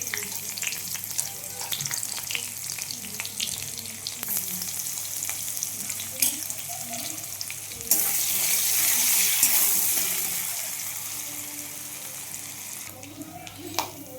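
Bay leaf, dried red chili and chopped garlic fry in hot mustard oil, a close steady sizzle that swells loudly midway with clinks of a utensil, and no talking is heard.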